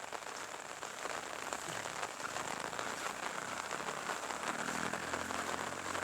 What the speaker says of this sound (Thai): บรรยากาศตอนฝนริน